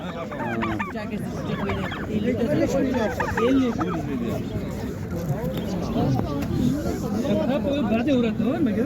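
Turkeys gobble and squawk among other poultry at the Karshi Karvon livestock market, a steady crowded din with people talking and bargaining over it throughout.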